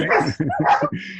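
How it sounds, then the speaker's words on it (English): A dog barks repeatedly in a quick run of yaps and woofs during a live community radio interview, fairly prominent and close. "that's the dog barking in the background"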